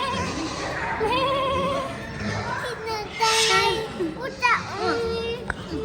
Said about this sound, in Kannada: ಮೇಕೆ.